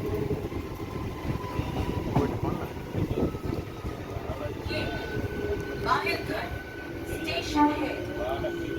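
A local commuter train on the Tarakeswar–Dakshineswar line pulls into quiet Bahirkhanda station, with a continuous low rumble and rail clatter while a person talks over the carriage noise.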